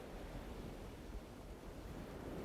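Ocean waves wash onto a tidal shore in a steady, broad rush of surf. There is no speech, and light wind noise blends into the roar.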